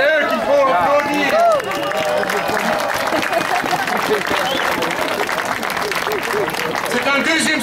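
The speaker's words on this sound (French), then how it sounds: "C'est à eux qu'il faut applaudir." Demonstrators at an anti-nuclear protest against the Tihange nuclear power plant in Belgium applaud as a crowd, a broad, sustained clapping close by with a voice talking over it.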